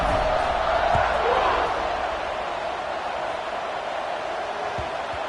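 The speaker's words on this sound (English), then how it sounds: "They're set to kick it off, and this crowd now ready to get behind them." A college football stadium crowd at a Texas Tech game waits for kickoff, a steady broad roar that swells slightly, with a commentator talking over it.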